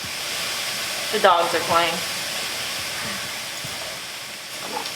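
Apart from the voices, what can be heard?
jackfruit sizzling as it is dumped into a hot pan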